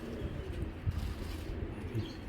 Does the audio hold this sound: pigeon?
yes